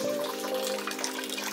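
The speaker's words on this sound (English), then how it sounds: "A little nice little waterfall feature" Steady rushing, splashing water from a small decorative waterfall feature flows continuously at close range, a small cascade pouring without pause, in Tangier, Morocco.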